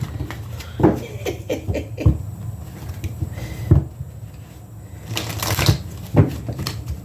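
A Greek mythology card deck being shuffled in big, clumsy chunks, giving several sharp riffling bursts and clacks spread unevenly through the stretch, close up with no talking.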